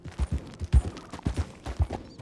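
Horse hooves clip-clopping in Red Dead Redemption 2, a steady run of low, close thuds in an uneven gallop-like rhythm, with no talking over them.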